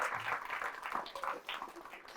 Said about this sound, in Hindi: जोरदार तालियों के साथ स्वागत करें अमन गुप्ता